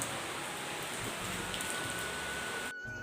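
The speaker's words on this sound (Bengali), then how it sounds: "দেখো বৃষ্টি কেমন পড়ছে দেখো" Rain falls steadily, a continuous soft hiss of drops with a faint tone appearing partway through before the sound cuts off abruptly near the end.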